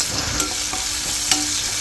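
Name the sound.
onion, asafoetida and green chili frying in pan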